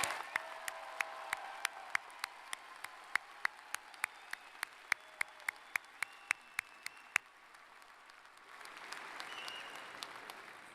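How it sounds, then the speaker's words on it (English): At a university fall commencement ceremony, an audience applauds the graduates with a steady, soft wash of distant clapping from a large hall, broken by sharp nearby claps. "Another round of applause for our graduates."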